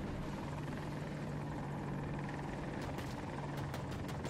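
An AH-64 Apache attack helicopter in a video game, flying over an industrial map, gives a loud, steady rotor and turbine drone that fills the whole stretch, with a few sharp high transients near the end.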